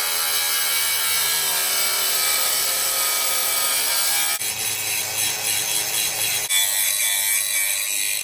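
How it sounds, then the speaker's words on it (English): Steady, continuous cutting through a Bronco Raptor bumper to trim it for tire clearance, a loud, close grinding-saw rasp that runs without pause and shifts pitch slightly partway through, with no talking. "let's trim up that bumper to see if we can get the clearance that we need"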